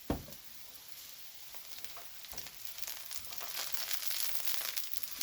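Onions fry in a pan with seasoning, paprika and adobo, giving a continuous crackling sizzle that grows steadily louder, heard close up with no talking.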